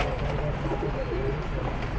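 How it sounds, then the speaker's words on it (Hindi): Breeding pigeons coo softly and repeatedly in low murmuring calls, close by, against a faint background hum. "ये भाई देखें बड़े कबूतर हैं, जोड़े वाले कबूतर हैं इनके"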